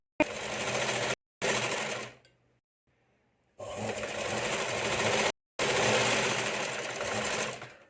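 An electric sewing machine stitches a katori-style blouse in loud, close bursts of rapid whirring, starting and stopping several times with short silent pauses between runs.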